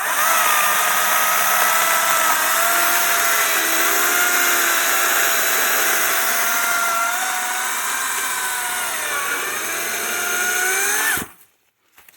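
Kobalt 14-inch electric chainsaw cutting through dry hardwood, a loud steady whine with the pitch wavering as the chain bites, running continuously for about eleven seconds before cutting off abruptly into quiet.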